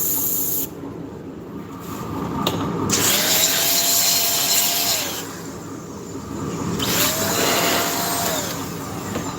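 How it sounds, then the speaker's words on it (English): A power sander runs across the laser-engraved wooden top of a swirl ornament in a workshop, whirring in two long passes with rising and falling pitch, a brief lull between them, loud and close with no speech. "I'm going to give the top a light sanding."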